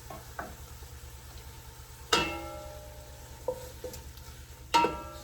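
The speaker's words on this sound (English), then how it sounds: "I'm just gonna kind of cook the vinegariness out of the mushrooms for about 1 minute." Mushrooms cook in a pan with vinegar, giving a soft steady sizzle broken by a few distinct clinks and taps of a utensil against the pan, close and fairly quiet.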